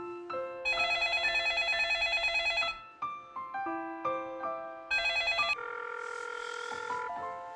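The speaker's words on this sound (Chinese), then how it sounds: "怎么还是没有人接电话？" A telephone rings on and off during an unanswered long-distance call to Taiwan, with repeated bursts of bright electronic ringing broken by short pauses, loud and close.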